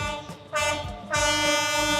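A train rolls past at very close range along Hanoi's narrow train street, a loud horn-like tone sounding in two surges over a low rumble, near and dominant, no speech.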